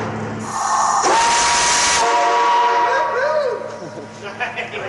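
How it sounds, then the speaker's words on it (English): A homemade steam whistle system shrieks loudly for a few seconds with a hissing rush of steam, its tone sliding and wavering before it trails off, while voices speak over it. "With the whistle system now assembled, Gabriel enlists Kelly to help him test it o"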